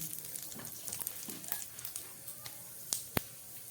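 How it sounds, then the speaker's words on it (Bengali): Bay leaf and cumin seeds crackle faintly in hot mustard oil, a quiet sizzle broken by scattered pops and two sharper snaps near the end. "দিয়ে দিচ্ছি একটা তেজপাতা ফোড়ন, আর দিয়ে দিচ্ছি একটু জিরে ফোড়ন"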